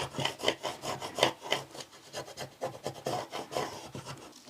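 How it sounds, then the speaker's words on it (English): A squeegee rubs firmly back and forth over lettering laid on wood, a quick rhythmic scraping of short strokes, close and continuous with no talk. "take your squeegee again to transfer the lettering"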